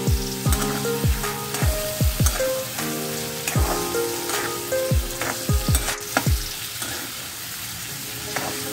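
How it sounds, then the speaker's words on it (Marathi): Prawns frying in hot oil, a steady bright sizzle with crackles, stirred with repeated knocks of a utensil against the pan, close and loud with no talk. "कोळंबी तेलामध्ये छान भाजून घ्यायचे आहे"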